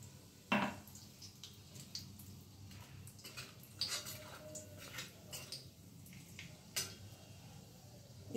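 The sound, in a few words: stirring whole spices tempering in hot oil in a pan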